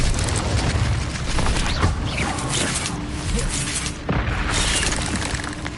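An Incendio spell in a Harry Potter wizarding video game erupts in a loud, roaring fiery burst, dense crackling and booming that runs continuously with a brief dip partway through.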